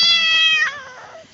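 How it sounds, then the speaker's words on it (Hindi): Cat meowing close by: one long, bright, drawn-out meow that bends and fades into a softer trailing cry, loud and alone. "देखो बिल्लियाँ कितनी प्यारी प्यारी हैं यहाँ"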